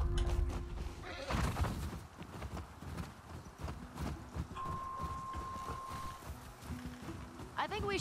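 Horse whinnies and hoof clip-clop from The Last of Us Part II, with a neigh near the start and again at the end over steady game ambience and people talking.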